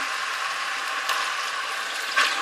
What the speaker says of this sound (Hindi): ये देखिए मैंने पानी डाल दिया इसमें ये तीन गिलास पानी है